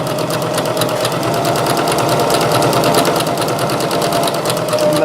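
Close and loud, a sewing machine runs continuously at a steady pace while stitching a reversible apron, with an even, unbroken mechanical hum throughout.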